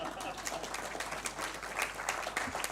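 Applause from an audience at a FICCI HEAL 2025 conference session, a steady mid-level wash of clapping lasting throughout, with some faint voices mixed in.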